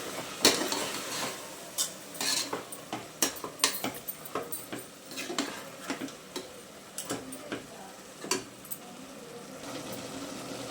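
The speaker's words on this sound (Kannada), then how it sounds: "ಇದೆಲ್ಲ ಒಂದ್ಸಲ ಮಿಕ್ಸ್ ಮಾಡಿಕೊಂಡು ಆಯಿಲ್ ಬಿಡೋದಂತ ಫ್ರೈ ಮಾಡ್ಕೋಬೇಕು" Ground masala for an avarekaalu pulav stirred and fried in a pan, with repeated metallic spoon clinks and scrapes against the pan in an irregular rhythm over a low sizzle, close by.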